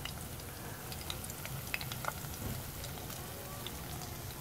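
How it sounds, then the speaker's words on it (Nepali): Kaligandaki river fish deep fries in hot oil, a dense steady sizzle and crackle with occasional sharper pops. "यो चाहिँ काली गण्डकीको असला माछा यहाँ फ्राई हुँदैछ, डिप फ्राई"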